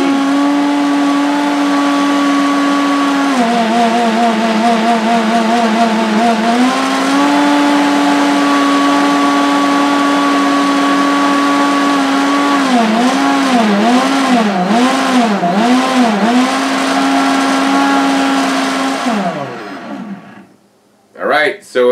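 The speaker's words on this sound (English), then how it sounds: "blend at different speeds, and then turn itself off when it figures it's all done" Vacuum blender blending jammed-in greens on its auto setting, a loud steady motor whine that shifts pitch as it changes speeds, pulses up and down in waves, then winds down and shuts itself off near the end.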